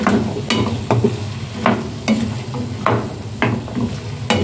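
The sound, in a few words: stirring ginataan papaya in a pan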